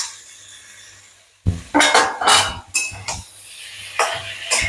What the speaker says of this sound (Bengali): এইবার পটলগুলো দিয়ে দেবো, পটল ভেজে রেখেছি,